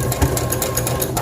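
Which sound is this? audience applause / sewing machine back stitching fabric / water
sewing machine back stitching fabric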